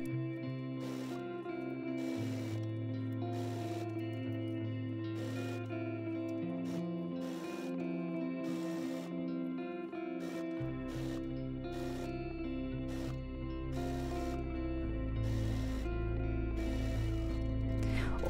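Sewing machine running in quiet bursts while stitching a dress seam all the way around, a soft mechanical whir with steady clicking stitch rhythm, alternating with short pauses and shifting speed.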